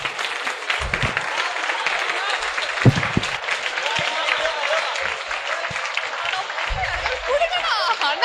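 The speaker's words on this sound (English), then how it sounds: "So very good. Clap for her." A class of students claps for a classmate in a CA Intermediate batch lecture, sustained applause at moderate level with a few low bumps and handling thuds underneath.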